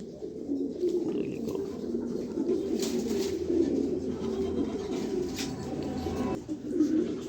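Pigeons, including a female bird from 2025, coo continuously in a loft, a warm, low rolling murmur of overlapping calls up close, briefly dipping before swelling again; no voices are present.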